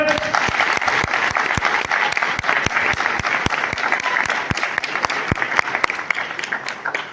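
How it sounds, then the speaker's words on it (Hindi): A theatre audience at a stage play team introduction applauds heavily and steadily, with sharp individual claps standing out near the microphone throughout the sustained ovation. "आपकी भरपूर तालियां होनी चाहिए।"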